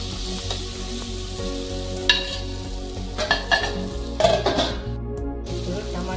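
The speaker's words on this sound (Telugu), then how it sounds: "ఎల్లిపాయలు, పచ్చిమిర్చి ఇవన్నీ బాగా ఫ్రై అయినాయి" Garlic, green chilies and tomatoes fry in a pan with a steady low sizzle. A utensil stirs and scrapes with a few sharp clinks against the metal.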